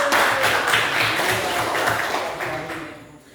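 A classroom of students claps hands together on cue, a short burst of fairly close, lively clapping with some voices mixed in, tapering off after about three seconds.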